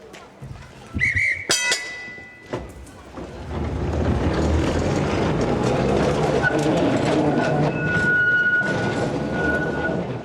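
A 1922 Glasgow electric tram rumbles along rails with a steady low mechanical roar, faint squeals and clatter rising over it after a few sharp knocks at the start.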